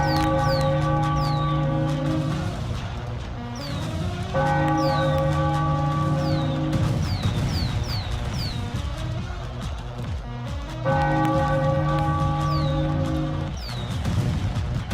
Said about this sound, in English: Ringing the bell, the Brewers win.